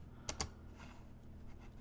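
Two quick, close mouse clicks sound against a quiet room hiss while working in audio EQ software, followed by faint handling noise.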